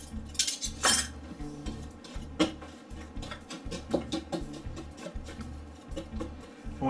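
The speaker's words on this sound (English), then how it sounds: "we want to break this up to where the shortening is kind of like in little bitty pieces in the flour" A whisk works shortening into wheat flour in a bowl for a pie crust, making quick uneven clinks and taps against the bowl with soft gritty rustling in between, close and without talk.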